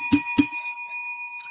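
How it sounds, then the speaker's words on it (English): Two sharp, bright dings of a small bell come in quick succession as a sound effect, their metallic ring hanging and slowly fading, with a fainter third tap near the end. "Let's ring the bell for that."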